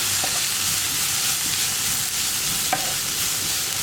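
Potato bonda masala with turmeric cooks in a pan under a loud, dense, even sizzle, with only a couple of faint utensil clicks; close and continuous, with no speech.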